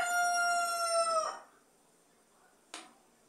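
A rooster crows loudly with a long, drawn-out call, followed by quiet and a short, sharp sound near the end.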